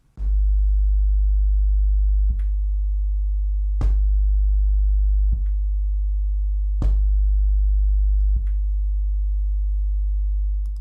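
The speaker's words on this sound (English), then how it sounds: "Let's change our output tones to 50 Hz." A steady 50 Hz sine test tone runs through a Heathkit audio preamp's filter, holding constant and loud for about eleven seconds, with a few brief clicks as the level steps.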